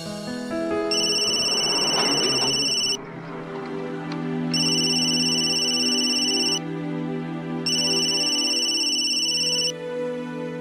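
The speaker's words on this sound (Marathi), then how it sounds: "निशांतला फोन करून बघते." A phone rings back on an outgoing call, with bright electronic ring bursts of about two seconds separated by short pauses, repeated three times, loud and steady in a quiet room, with no one speaking.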